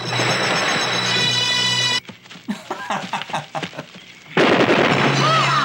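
Gunfire in a Reb Brown action film scene: a run of sharp, irregular bangs and bursts, loud and close, set between stretches of dramatic music.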